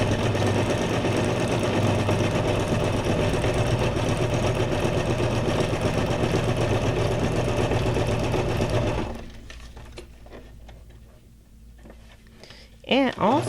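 Sewing machine stitching around a fabric scrap junk journal page, a loud, fast, steady mechanical chatter running continuously for several seconds before stopping, followed by quieter handling noises and a voice.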